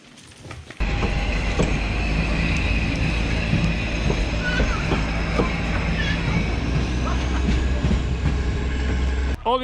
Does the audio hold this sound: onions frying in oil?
no